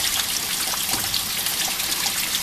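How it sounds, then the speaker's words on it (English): Water flushes steadily out of a Suzuki Samurai heater core, a continuous hissing trickle and gush at an even level, close up with no talk. "the water's coming out nice and steady"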